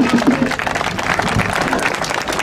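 An outdoor crowd at a park festival in Lier applauds, moderately loud clapping mixed with crowd murmur and brief voices for the whole moment.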